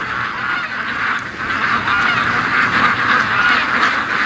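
Ducks call continuously in a yard, a dense, steady clamor of honking quacks from a flock close by, with no voices.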